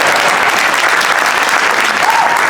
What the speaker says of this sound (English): Yeah, clap that up, Johnny.